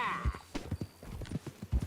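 Horse hooves in Red Dead Redemption 2 sound as a steady clip-clop gait, close and clear, with a short whinny at the start and a voice talking over the riding.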